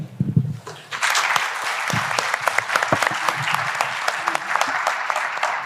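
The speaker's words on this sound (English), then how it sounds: "Let's give them another round of applause as they are going down to take their seats" Audience applause after a panel discussion, a brief bit of voice at the start giving way to sustained, dense clapping from a large crowd that carries on steadily.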